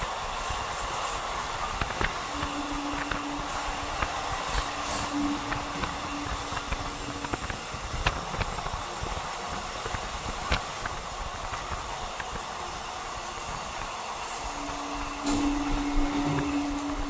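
A train rolls past alongside during a parallel crossing near Shikohabad Junction, a steady broadband rumble and hiss lasting throughout, with a sustained horn-like tone appearing twice in the middle and near the end.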